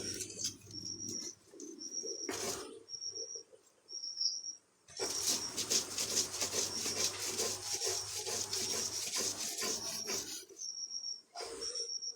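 Spices are ground into a paste by hand on a stone with dried fish, giving a rough, scraping rub in bursts, one long stretch in the middle, while birds coo and call faintly between strokes.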